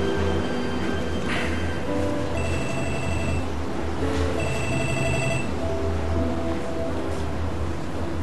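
A telephone rings for an incoming call, two distinct ring bursts a couple of seconds apart, loud and close over a steady rushing background noise.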